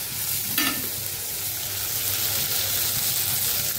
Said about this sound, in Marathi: आता पुन्हा परतून घेऊया चांगलं